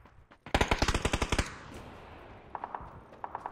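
A rapid burst of about nine loud, close gunshots in PUBG fires off in quick succession, followed by fainter, more distant shots in short clusters.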